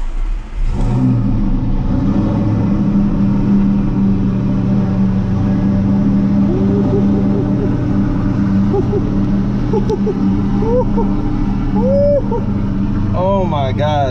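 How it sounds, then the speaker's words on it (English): An Audi R8 cold start: the engine catches and settles into a loud, steady, deep rumbling idle that fills the whole stretch, with voices talking over it. "we're gonna get a cold start on it"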